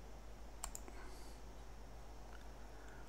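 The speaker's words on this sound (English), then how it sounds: "now we're going to right click" A computer mouse right click on a Linux desktop, heard as a couple of quick faint clicks close together near the start over a low steady hum, then quiet.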